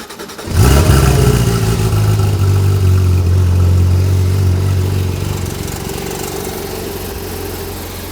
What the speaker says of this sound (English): I mean, it's a stock Porsche. It sounds okay.